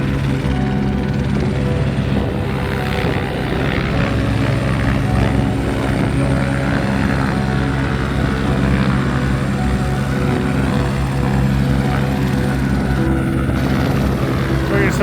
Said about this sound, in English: Helicopter just landed.